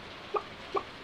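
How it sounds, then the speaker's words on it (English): Two short clucks from chickens in the Stardew Valley video game, evenly spaced and fairly soft over a faint steady background hum. "Look at these chickens."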